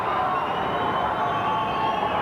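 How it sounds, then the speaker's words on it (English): A boxing crowd at a Johnny Tapia fight roars in a frenzy, a dense and steady wall of cheering and shouting that fills the whole stretch with no break. "The crowd worked into a frenzy here."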